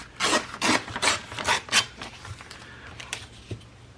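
Paper is torn by hand for small Christmas folder covers: a run of about five quick, raspy rips close by, followed by a few softer, scattered tugs.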